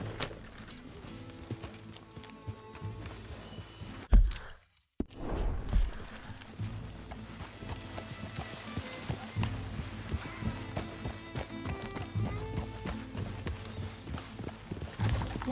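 Steady clip-clop of horse hooves walking in Red Dead Redemption 2, with a brief break partway through, then the hoofbeats continue alongside ambient sound.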